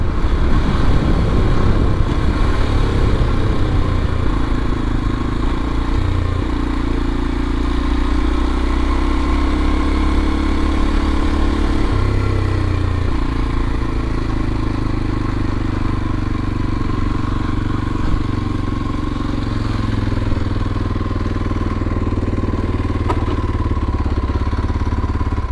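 A 2022 Kawasaki KLX230SE dual sport motorcycle runs on the road, its single engine a loud, steady droning hum with faint shifts in pitch held for the whole stretch, nobody speaking.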